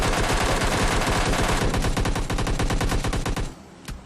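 Rapid automatic gunfire rattles in the mobile shooter game PUBG Mobile Lite, a long dense burst of shots that ends abruptly, followed by one last single crack, loud and close with no talk.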